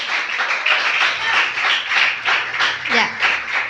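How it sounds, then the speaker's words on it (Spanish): Church congregation applauding, a dense, steady wash of many hands clapping together in a large room, sustained throughout, with a brief voice rising near the end. "¿Cuántos pueden dar una ofrenda de aplausos al Señor?"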